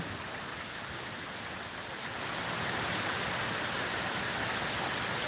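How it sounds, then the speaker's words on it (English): Steady, heavy rain pours down continuously on a street, water pooling and flooding, a dense hiss that swells slightly louder partway through, with no voices. "we've had so much rain over the last half an hour"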